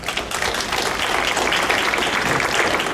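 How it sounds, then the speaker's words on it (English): Dense audience applause at a public gathering with Los Angeles County personnel, a continuous loud wash of many hands clapping without pause. "Can we give her a round of applause?"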